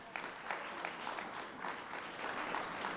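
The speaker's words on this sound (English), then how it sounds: "Come on, let's give a round of applause." Faint applause from a conference audience at a tech event, a continuous wash of clapping heard from some distance with no voices over it.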